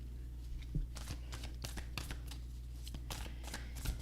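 A deck of cards is shuffled repeatedly at close range, a quick series of crisp riffling bursts over a faint steady hum, with no talking.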